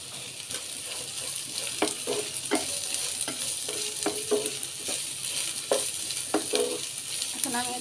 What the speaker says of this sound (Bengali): পেঁয়াজের কুচিগুলো দিয়ে আমি আরও 2-3 মিনিটের মতো নেড়ে নেব